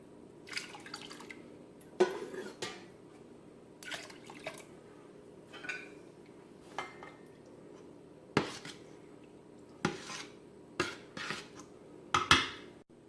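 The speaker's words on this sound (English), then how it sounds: "now I will begin adding room temperature water to try to cool the curds down to about 80 degrees Fahrenheit." Room-temperature water goes into a pot of cheese curds while making homemade Colby, heard as scattered quiet drips, splashes and light clinks at irregular intervals over a faint, steady background.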